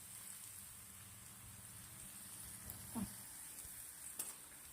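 Chopped garlic cloves with red and green chillies frying in oil, a soft continuous crackling sizzle with a couple of brief louder pops and clinks, quiet and close.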